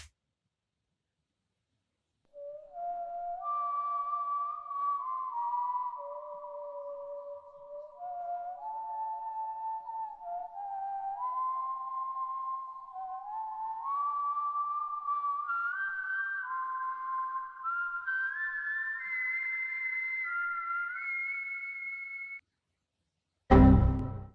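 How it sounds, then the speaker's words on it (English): A solo whistled Western-style melody, clear and tuneful, rising gradually in pitch through a series of held notes, ending with a sudden knock. "So let's listen to just the whistle."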